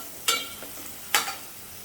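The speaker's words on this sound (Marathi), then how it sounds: "ह्यामध्ये मी टॉमॅटो घालते परतून घेते तेलामध्ये" Tomatoes stirred into hot oil after onions in an Agri-style bombil, brinjal and potato curry give two short sizzling, scraping bursts about a second apart, close and fairly soft, with no voices.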